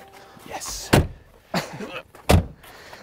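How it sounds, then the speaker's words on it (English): A Mercedes-AMG G-Class door slams shut three times in quick succession, each a loud, close, heavy thunk standing out from a quiet background. "You could never get in trouble for slamming a door."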